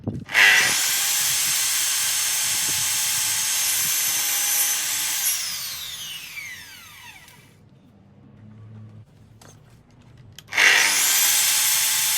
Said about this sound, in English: So we made two cuts to the stick there